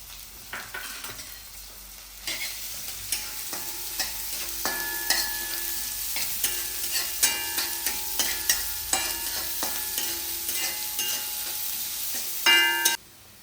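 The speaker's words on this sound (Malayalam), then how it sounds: "നമ്മൾ എണ്ണ ചൂടായിട്ടുണ്ട് നമുക്ക് പച്ചമുളകും ഉള്ളിയും കൂടെ ചേർക്കാം കുറച്ച് കറിവേപ്പിലയും" Green chillies, onion and curry leaves fry in hot oil for aviyal, a continuous sizzle under repeated scraping and clinking stirs of a spoon in the pan, building louder toward the end.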